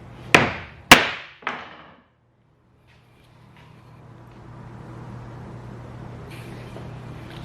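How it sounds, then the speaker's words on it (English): A hammer strikes a light piece of wood three times in quick succession, sharp loud knocks each with a short decay, followed by quiet background hum. "But we're gonna take the hammer to it."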